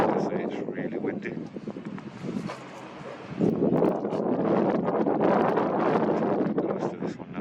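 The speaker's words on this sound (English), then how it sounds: "it's really windy." Strong gusting wind at the Top of the Rock in Gibraltar buffets the microphone with a loud, continuous roar that swells and surges, a voice half-buried beneath it.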